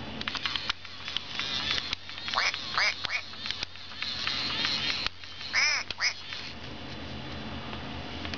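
A FurReal Friends yellow duckling toy gives a series of electronic quacks and peeps over a low mechanical hum, with irregular bursts close by.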